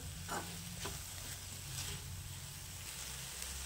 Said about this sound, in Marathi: 5 मिनिटं मटकीला तेलामध्ये असंच परतवून घ्यायचं आहे, त्यामुळे मटकीचा कच्चेपणा कमी होतो।